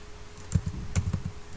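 Keys on a computer keyboard clatter in a short burst of several quick clicks, close and fairly quiet, while someone enters text into a Scratch program.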